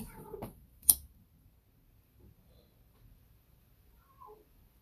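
A pet cat gives a short meow indoors, with a brief sharp sound right after it, then near silence and a faint low murmur later.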